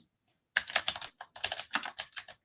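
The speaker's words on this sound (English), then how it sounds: "that's my keyboard because my keyboard is wonderful" Rapid, uneven bursts of keystrokes on a computer keyboard, close and clear, starting after a short silence and continuing steadily with small pauses between flurries.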